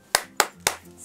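Three sharp, evenly spaced hand claps in a quick rhythm, a spirited clapping routine (tepuk semangat) in an online preschool class, close and crisp with brief decays and no talk.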